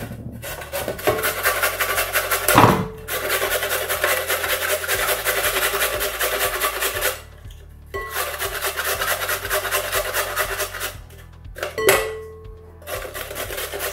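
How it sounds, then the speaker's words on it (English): Carrots grated by hand for coleslaw, long runs of close, rhythmic rasping strokes broken by short pauses and a couple of knocks, with no talking. "To start with, I'm going to grate my carrots"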